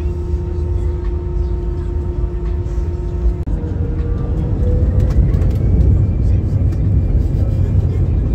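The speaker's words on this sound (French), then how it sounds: "Je vais filmer le décollage." A passenger airplane takes off, a loud steady engine roar heard from inside the cabin that swells and rises in pitch as the aircraft accelerates down the runway, with faint voices underneath.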